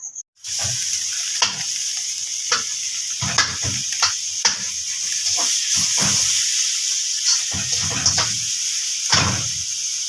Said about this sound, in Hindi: तो सारे मक्खन में फ्राई हो गए।